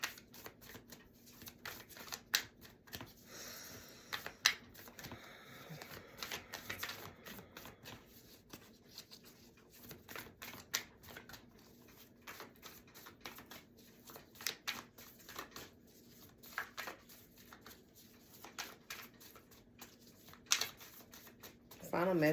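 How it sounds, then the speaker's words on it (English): A deck of tarot cards is shuffled repeatedly, giving quiet, close riffling and flicking bursts in an irregular rhythm that continues throughout with a low hum underneath. "I'm going to shuffle this 3 more times."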